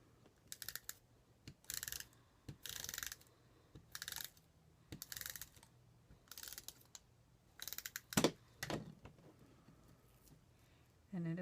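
Cardstock is cut for a scrapbook card in a series of short, crisp mechanical snips and clicks, repeating in quick irregular bursts with brief pauses between them.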